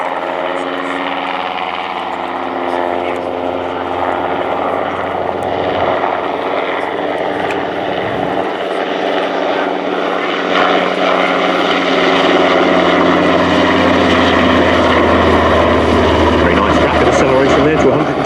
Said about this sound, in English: the NH Industries NH90 TTH, the Tactical Transport Helicopter.